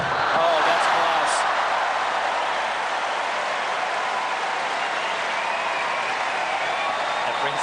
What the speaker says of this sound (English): That brings the crowd up to their feet.